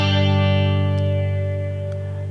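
A sustained distorted guitar chord runs through a Quad Cortex flanger set to a sine waveform, its swirling sweep ringing loud and steady, then easing slightly as it fades.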